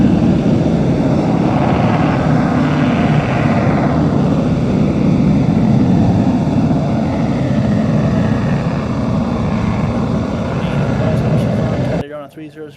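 An Avro Vulcan bomber rolls down the runway for takeoff at an airshow, a loud, broad jet roar that stays heavy and steady throughout before cutting off sharply near the end.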